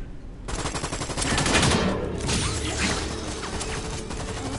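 Heavy automatic gunfire from several weapons in the action game Resident Evil 6 rattles almost without pause, loud and close, with mechanical clatter and crashing impacts mixed in.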